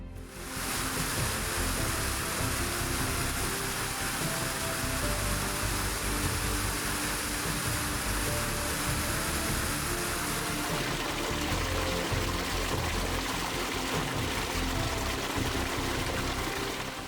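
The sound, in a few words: waterfalls pouring down moss-covered cliffs into a lake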